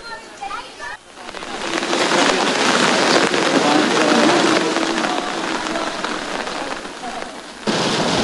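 Heavy rain pours onto flooded city streets along Commonwealth Avenue in Quezon City, a dense, steady roar of falling water that swells after a brief dip and holds loud throughout, with no talk over it.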